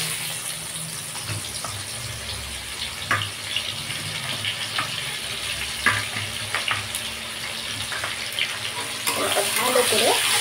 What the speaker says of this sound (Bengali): আর এই যে পেঁয়াজটা দিয়ে দিলাম